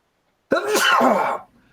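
A single sharp, loud sneeze with a burst at the start and a drawn-out breathy tail, up close with no talking.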